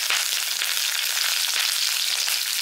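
Curry leaves frying in hot oil for a Tamil hotel-style kara chutney: a steady, close, bright sizzle with a few faint pops and crackles, no talk.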